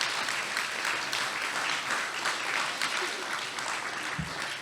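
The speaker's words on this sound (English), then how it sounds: "orenzo Botello, Noah Karn, and Nicole Vigil, please give them all a round of applause." A rally crowd supporting Afghan refugees claps in steady, sustained applause that fills the space for several seconds.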